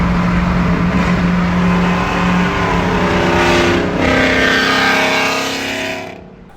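Nissan GT-R with headers and catalytic converters removed, engine running loud with a rising and falling rev tone and strong harmonics, dropping away abruptly at the end.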